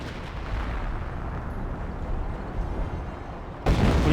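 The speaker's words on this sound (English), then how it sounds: "What artillery barrage is that? A creeping barrage." Creeping artillery barrage in the strategy game Company of Heroes: a continuous rumble of distant shell impacts, ending in a sudden louder, closer blast.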